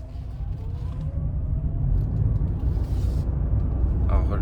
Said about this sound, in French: C'est une sonorité de 3 cylindres, mais elle n'est pas désagréable.